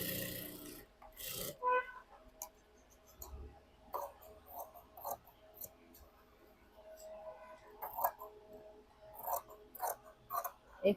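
Scissors trim away extra blouse fabric with scattered crisp snips and soft rustling handling, close and fairly quiet, the cuts coming in irregular clusters.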